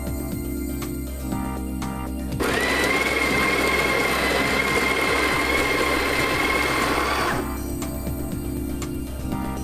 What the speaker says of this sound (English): We're just going to grind some coffee now.